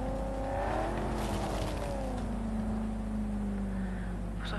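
A car drives in the video game Cyberpunk, its engine rising and falling with revving pitch sweeps and faint tire noise, steady and alone without talk.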